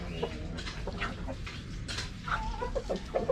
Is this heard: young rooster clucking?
yes